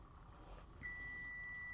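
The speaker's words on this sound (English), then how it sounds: "there goes the timer" A kitchen timer goes off during muffin baking, a faint steady electronic beep tone starting partway through against quiet room noise.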